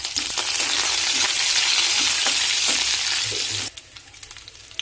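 Curry leaves dropped into hot oil for a potato fry, giving a loud, dense, crackling sizzle that roars for several seconds and then cuts down to a faint simmer with a few small clinks.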